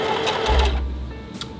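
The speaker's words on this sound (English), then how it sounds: "which will activate the sewing machine." A sewing machine run by a foot pedal stitches in a fast, close mechanical chatter that slows and stops partway through, followed by a brief clack.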